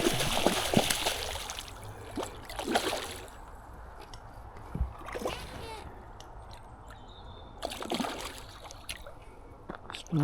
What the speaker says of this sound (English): Splashing away.